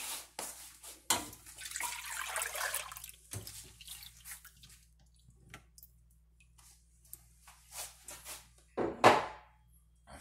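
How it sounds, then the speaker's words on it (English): Milk pours from a container into a cooking pot in a short splashing stream, followed by faint drips and a few clinks of the container, close and otherwise quiet. "Gonna put our milk in."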